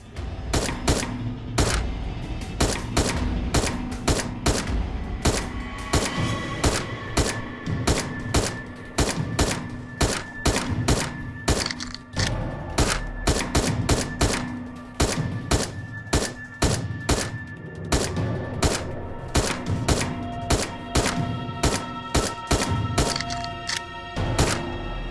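Video game gunfire, a long run of sharp, rapid thunking shots in quick bursts, loud and close, with brief gaps between volleys and no talk.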